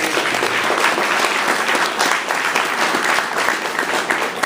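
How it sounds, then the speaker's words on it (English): An audience at a 2017 Roeland Park candidate forum claps for the candidates, a dense, loud, steady round of applause close by with no pause. "give our candidates one more round of applause"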